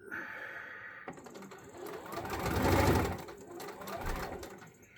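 A sewing machine stitches along a line while modifying a wrestling mask, running in a steady mechanical whir with rapid clicking that swells in the middle and eases off toward the end, close by with no talk.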